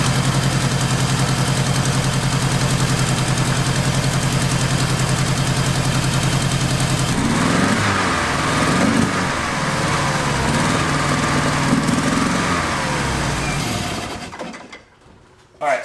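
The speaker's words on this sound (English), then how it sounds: "Now the test is to actually start the car and see if the fuel pump is maintaining that pressure as it demands it." Dodge Charger engine running during a fuel pressure test, a steady loud idle drone that shifts in tone partway through and then cuts off near the end.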